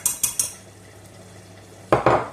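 Butter dropped into a saucepan while making béchamel for lasagne, a few sharp metallic clinks and knocks of utensil against pan, then a couple more clatters after a short quiet pause.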